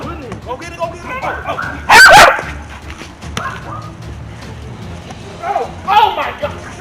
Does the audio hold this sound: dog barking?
yes